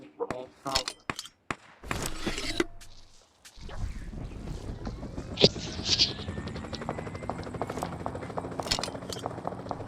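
A recall jet aircraft in the BGMI mobile game drones with a steady mechanical engine hum, after a few seconds of sharp game clicks and brief voices.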